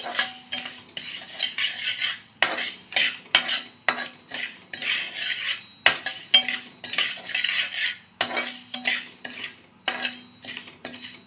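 Rice roasts in a pan on a low flame while a metal spoon stirs it in quick repeated bursts, sharp scraping and clinking against the pan in a busy rhythm with brief pauses between strokes.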